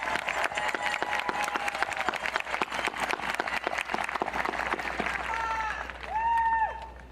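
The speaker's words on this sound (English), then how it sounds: "can we give a tremendous round of applause to our teachers and staff" A high school graduation crowd applauds teachers and staff, sustained dense clapping filling the space before tapering off, with a voice speaking over the tail end.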